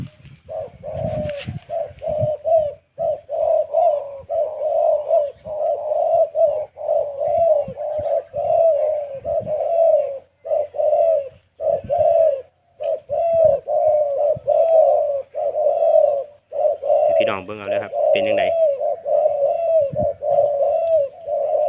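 Doves coo continuously in low, rhythmic, throaty phrases, close and clear, with brief pauses and a few faint background noises, in Korat, Thailand.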